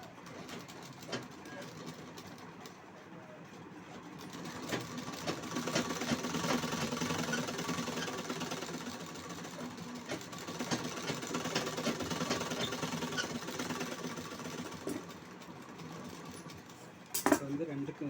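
A sewing machine runs a long line of stitching between two folds of blouse fabric, humming at moderate loudness through most of the stretch while someone talks over it.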